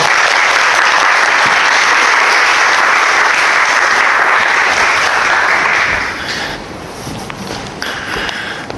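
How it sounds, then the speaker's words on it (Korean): A church-style gathering gives a loud, close round of applause welcoming a guest speaker, steady for about six seconds before thinning out into scattered claps. "우리 박수로 한번."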